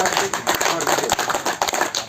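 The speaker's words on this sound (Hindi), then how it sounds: "जोर से बजाइए ताली।" Dense, continuous audience clapping at a Guru Purnima gathering on Patanjali's yoga, a busy rapid patter of many hands filling the whole stretch at steady loudness.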